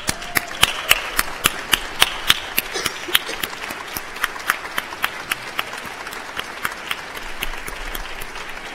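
A standing audience at a university graduation ceremony applauds, with a few sharp, close claps ringing out rhythmically over a softer wash of crowd clapping that gradually thins.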